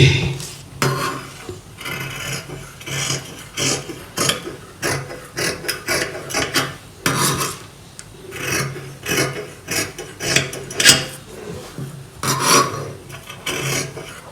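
Scissors cut fabric for an Onam frock in repeated rasping strokes, close and uneven in rhythm, with brief pauses between cuts and no talking.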